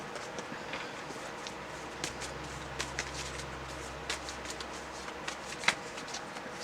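A deck of cards is shuffled up close during a quiet indoor session, with repeated soft riffling and crisp card snaps over a steady low hum.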